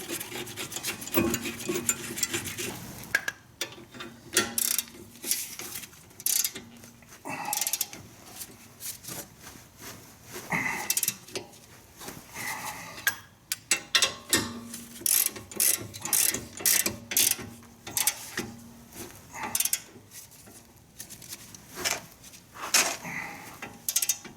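Hand ratchet tightening the brake caliper bracket bolts on an Audi or VW during a front and rear brake job, a close series of rapid clicking bursts in irregular spurts, with metallic scraping between them and no talking.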